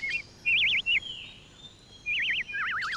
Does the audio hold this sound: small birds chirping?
yes